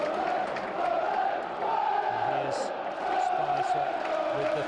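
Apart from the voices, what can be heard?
football crowd cheering at Burnley v Luton match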